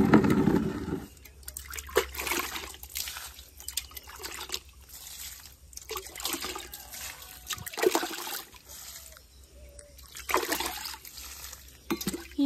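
Water poured onto potted flower plants outdoors, trickling and splashing in uneven bursts with short pauses between pours, moderately close and fairly soft.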